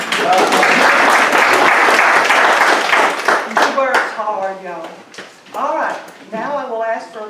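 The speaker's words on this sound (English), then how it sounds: "Y'all give her a round of applause." Audience applause at a council meeting, a loud burst of dense clapping that fades out after a few seconds as voices take over and people talk.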